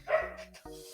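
Two short dog barks from a nearby dog, the first louder, the second after a brief pause, standing alone with no talk over them.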